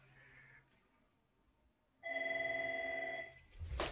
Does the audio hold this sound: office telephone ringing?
yes